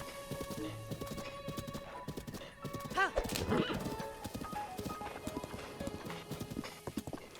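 Horse galloping in the video game Zelda Breath of the Wild, rhythmic clip-clop hoofbeats with a brief whinny midway, heard under people talking.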